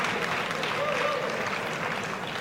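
A crowd applauds at a table tennis match between Ma Long and Chen Qi, a steady, dense wash of clapping through the whole moment, with a commentator's voice over it.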